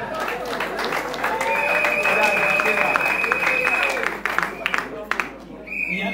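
Applause from guests at a civil wedding ceremony: a dense, sustained round of clapping for about four seconds that thins into scattered claps, with voices mixed in throughout.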